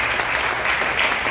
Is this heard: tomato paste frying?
no